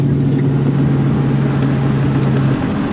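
Exhaust drone from a 1999–2004 Ford Mustang rolling in 4th gear with the windows up, a steady low, even rumble heard from inside the car, continuous and unbroken.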